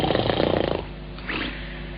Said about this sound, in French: Et lui, il ronfle.